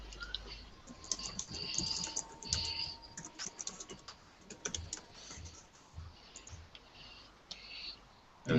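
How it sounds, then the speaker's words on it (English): Computer keyboard typing in bursts of quick, irregular key clicks, fairly close and moderately loud, with a few pauses, over a faint steady background hum and no one talking. "I was definitely typing."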